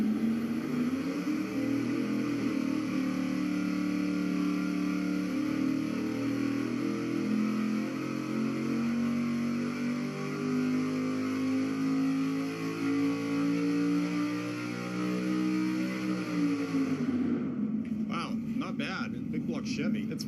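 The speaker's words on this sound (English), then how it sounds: "All right, here we go with the long rod engine" A big block Chevy fitted with 6.8-inch long connecting rods runs on a dyno, a loud, steady droning pull that climbs in pitch before cutting off abruptly near the end, leaving clattering noise.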